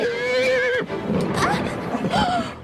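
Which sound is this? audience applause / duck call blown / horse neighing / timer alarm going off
horse neighing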